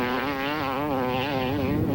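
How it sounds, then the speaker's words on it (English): Racing motorcycle engine held at full throttle over rough dirt ground, a loud, close, sustained high-pitched buzzing drone with a slight wavering pitch and no letup. "Listen to the engine."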